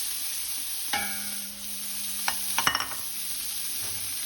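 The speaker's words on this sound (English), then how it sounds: "We've got a nice layer of oil that we're going to add the onions to right now" Onions drop into hot oil and meat grease, setting off a sudden crackling sizzle with a few clattering spoon knocks against the pot, then a steady quiet hiss.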